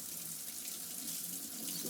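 Tap water runs steadily into a kitchen sink as lukewarm water is drawn for salt-curing bacon, a continuous close hiss and splash with no speech.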